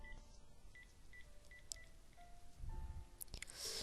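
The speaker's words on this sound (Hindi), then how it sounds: "सुबह फिर पीहू के घर पर फोन लगाया।" A series of telephone keypad tones beeps one after another as a number is dialed, quiet and close, with faint clicks.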